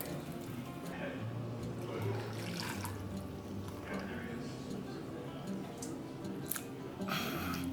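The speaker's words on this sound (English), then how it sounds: "I'm gonna strain my broth now." Ramen broth for a tonkotsu and shoyu bowl is poured through a strainer, a faint trickling and splashing of liquid with light clinks, under quiet talk.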